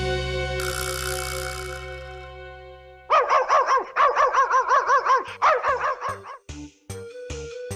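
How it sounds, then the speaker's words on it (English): Dog barking sound effect in a read-aloud children's story, arriving as a rapid series of sharp, close barks and yips after a brief musical tone, with no talk over it. "a new dog came up Henry's street"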